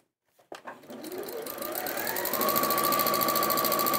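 An Elna sewing machine fitted with a walking foot starts up after a brief pause and runs into a steady, fast stitching whir that grows louder and holds a rising mechanical tone, close and clear with no talk.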